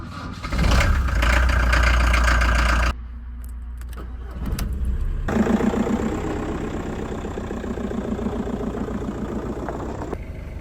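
A car engine idling as it warms up, close and loud, with a heavy low rumble that drops after a few seconds, then settles into a steadier, slightly pulsing idle with a faint metallic clatter.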